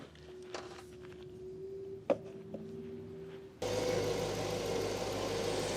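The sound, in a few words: Jaguar XK8 engine running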